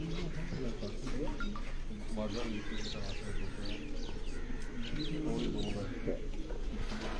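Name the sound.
pigeons on a rooftop loft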